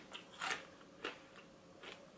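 Quiet crunching bites on crisp half-popped popcorn, a few distinct crunches spaced apart, close up with no talking.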